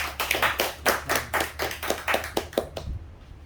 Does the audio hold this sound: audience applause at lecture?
yes